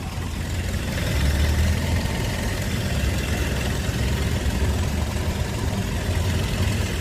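1994 Toyota Kijang Super G boxy van with a 1.5 engine, heard up close as a steady low rumbling idle with a slight lift in revs, continuous and loud with no voices.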